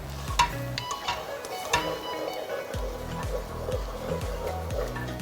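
Coconut milk for a Khmer chicken red curry is stirred in a pot, giving a soft simmering sizzle with repeated spoon scrapes and occasional clinks against the pot.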